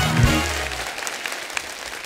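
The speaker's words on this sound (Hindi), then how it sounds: "जोरदार ताली हो जाए।" A studio audience at a comedy talk show applauds. The clapping is a dense, steady wash that slowly fades, with a brief voice or musical tone at the very start.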